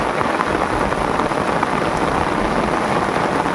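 Heavy rain pours steadily over a river in the Sundarbans during castnet fishing, a dense, even wash of close downpour that holds unbroken throughout with no voices.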